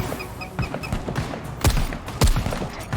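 Video game gunfire during a firefight, with scattered sharp shots and a few louder close bursts over a busy background of battle noise, no speech.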